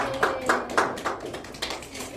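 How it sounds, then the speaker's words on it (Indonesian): A classroom group claps hands during a micro-teaching lesson: a brief, scattered round of separate claps, fairly soft and close, with no talk over it. "Coba tepuk tangan untuk kita semuanya"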